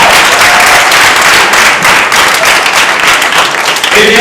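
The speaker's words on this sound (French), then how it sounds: "On l'applaudit très fort." Audience applause at a French spelling competition show, dense continuous clapping from a crowd, loud and close, sustained for several seconds without letting up.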